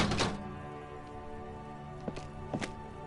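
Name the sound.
kicking dented yellow mailbox in video game Disco Elysium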